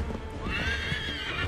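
A horse in the video game Assassin's Creed 3 lets out a loud, rising whinny over steady clip-clop hoofbeats. The horse is galloping, set against a busy in-game background.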